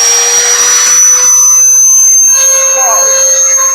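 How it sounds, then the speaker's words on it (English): A cordless handheld leaf blower runs close by with a loud, high whining whir that holds steady, with its pitch shifting slightly near the end. A person talks over it. "come with me to unbox this handheld blower and see how powerful it is"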